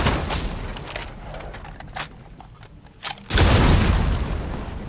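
In Rainbow Six Siege, a thermite breach charge goes off on a garage door. Scattered clicks and thuds lead up to a sudden loud, sustained burning blast that continues to the end.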